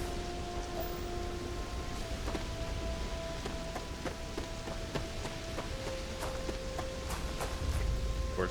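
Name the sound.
possible methane rain on an alien planet in the video game Starfield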